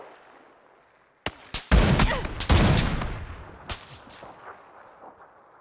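Gunfire in PUBG on console: a quiet lull, then a sudden run of loud, sharp shots in close succession, a few more cracks trailing off into echoing reverb.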